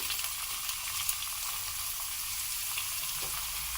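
Chopped raw mango and green chilli hiss in a hot pan with mustard seeds, giving a soft, even sizzle with faint crackles, steady and fairly quiet throughout.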